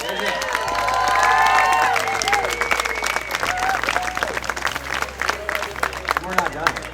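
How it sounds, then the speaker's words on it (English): Sustained applause and cheering from an audience honoring volunteers at a Bike MS reception, loud and steady for several seconds, with some crowd voices mixed in. "Would all of our volunteers please raise their hands so we can give you a round of applause?"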